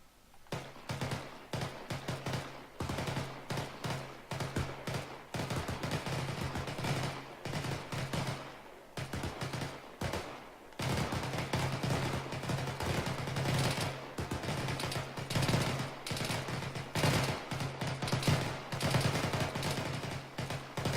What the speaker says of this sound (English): Go ahead and take shots at that building that's 800 meters away, the furthest one away.